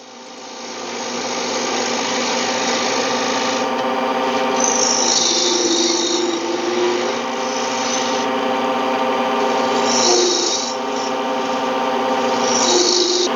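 A wood lathe turns a workpiece while a tool peels wood off it, giving a steady, fairly loud motor hum with rough scraping that swells and fades in bursts, with no talk.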